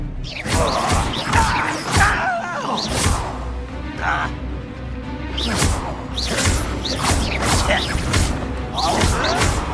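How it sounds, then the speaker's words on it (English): Spell effects cast in the video game Hogwarts Legacy: a string of whooshes and thudding impacts in quick succession, loud and close, with a voice shouting over them. "Leviosa! Accio! Expelliarmus!"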